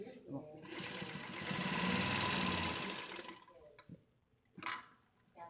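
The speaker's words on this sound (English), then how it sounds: "And now you're going to sew the whole thing." A sewing machine runs in a steady whirring burst for about three seconds while stitching a fabric bow tie, then stops, leaving a couple of short bursts. A person speaks nearby during the stitching.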